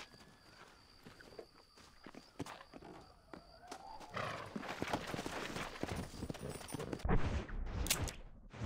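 Hooves clip-clop from a horse in the Red Dead Redemption video game, steady footfalls building into a louder, quicker run with brief whinny-like tones over game ambience.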